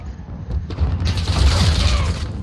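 Gunfire and booming explosions in Call of Duty Modern Warfare during a Ground War match, starting with sharp cracks and then swelling into a loud, rumbling barrage that continues to the end.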